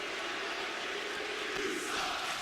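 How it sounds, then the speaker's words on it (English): A live awards-show crowd voices its disagreement, a steady, dense roar of many voices booing and shouting together that holds at an even loudness throughout. "The crowd is not agreeing with Jason."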